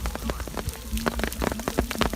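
Steady rain falls at midday over a rice field where seedlings are being pulled for transplanting, a dense close hiss of drops with scattered sharper splashes and patters running throughout.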